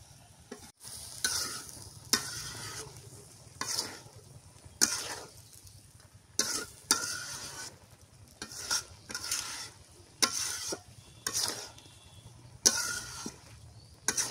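Taro leaves are stirred and fried in a pan for a village breakfast, with repeated scraping stirs over a soft, steady sizzle and an occasional cough.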